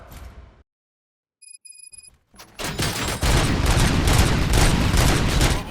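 Brief electronic beeps, then a loud, sustained burst of rapid gunfire crackles continuously, dense and close, in the video game RoboCop: Rogue City.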